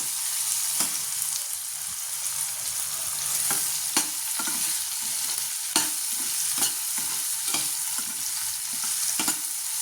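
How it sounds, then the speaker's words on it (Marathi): Ridge gourd sautéing in hot oil with a steady close sizzle, broken by frequent spoon scrapes and stirring taps against the pan throughout, no voices. "ते थोडंसं परतून घ्यायचे आहे तेलामध्ये"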